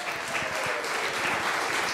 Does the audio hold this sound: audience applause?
yes